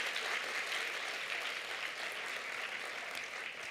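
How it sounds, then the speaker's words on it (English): Audience at an international youth peace summit giving a round of applause, a dense, even wash of clapping heard at a moderate distance and holding steady throughout. "I would like to see a bigger round of applause for Dr."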